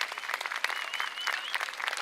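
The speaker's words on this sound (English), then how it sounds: "Let's give one big round of applause for these unsung heroes here, the first responders that are here to protect us" An audience at an outdoor safety festival claps for local first responders, a dense, moderately distant patter of many hands with a faint whistle cutting through.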